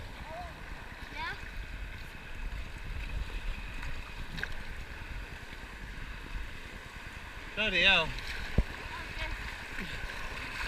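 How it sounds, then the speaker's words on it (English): White water rapids on the Rio Mayo rush steadily around kayaks, a constant churning roar with brief wind noise, while paddlers talk and shout over it. "The waves are coming in from everywhere, aren't they?"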